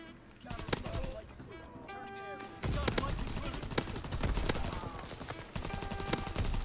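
Bursts of gunfire from a weapon in Call of Duty WW2, sharp repeated shots layered over a busy battlefield din, fairly close and loud, with a voice talking in between.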